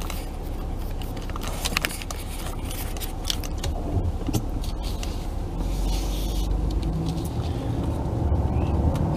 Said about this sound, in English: first drive after replacing the starter motor, just kind of started it up, letting it run a little bit